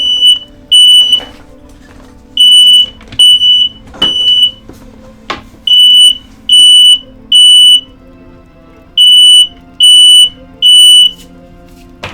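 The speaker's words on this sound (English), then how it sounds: "Why in the blazes is my fire alarm going off?" A household fire alarm goes off with loud, shrill beeps in regular pulses, sounding in groups of three with short gaps between them.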